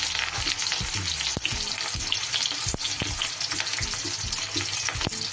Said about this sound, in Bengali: পেঁয়াজ বেরেস্তা সবসময় এরকম একদম চড়া তেলের মধ্যে আপনারা ছাড়বেন, আর একটু বেশি তেল দিয়ে করবেন।